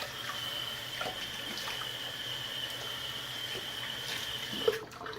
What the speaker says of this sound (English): I'm going to rinse my face.